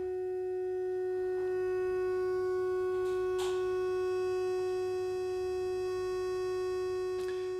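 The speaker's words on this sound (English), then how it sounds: "Now we're going to calibrate the overload distortion." On an ST Modular Oberhausen synth, a sine wave driven into overload distortion clips into a buzzy tone with a strong harmonic series, held steady and loud, with a few brief clicks along the way.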